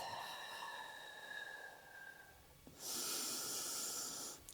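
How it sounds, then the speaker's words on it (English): A person holding a yoga high plank draws a soft, steady inhale, then releases a forceful, hissing exhale through the nose, close and quiet, with no talking. "Take a breath."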